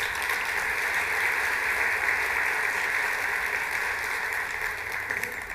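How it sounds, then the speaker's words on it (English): A round of applause from the audience at the New York State Superintendent of the Year presentation, dense continuous clapping from a crowd, even and fairly loud throughout without voices. "Let's give them another round of applause, please"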